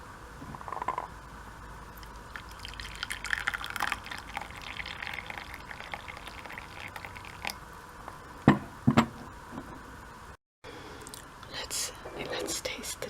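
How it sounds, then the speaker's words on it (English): Spearmint tea being poured from a pot into a cup, a soft trickling stream of liquid under a quiet whispered voice, with a few clinks near the end. "I'm going to pour some tea now."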